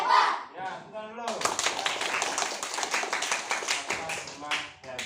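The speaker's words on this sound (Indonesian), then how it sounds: "Ayo kita tepuk jempol dulu ya." Children in a classroom clap in a thumb-clap routine: a voice speaks briefly at first, then a steady run of quick, close hand claps continues to the end, mixed with young voices.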